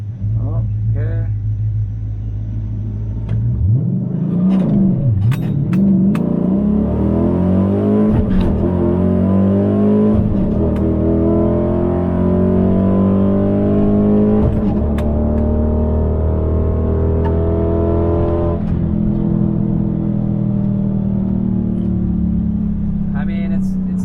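A cammed Dodge Challenger R/T drag races an Infiniti Q60, its loud, rumbling engine revving hard and climbing in pitch through several gear changes, staying close and dominant throughout.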